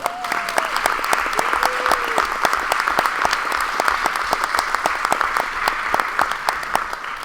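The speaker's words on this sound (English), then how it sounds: "And you can applaud at this time." Sustained applause from the audience at a Board of Education meeting, honoring an award recipient who is a school plant manager; dense, steady clapping throughout, with a couple of faint whistles early on.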